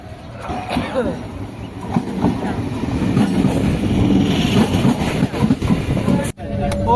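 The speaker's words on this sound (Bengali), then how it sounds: "চলে এসছে আমাদের ট্রেন" A passenger train rumbles and clatters steadily as it pulls into a station nearby, loud and continuous, with a brief sharp drop near the end.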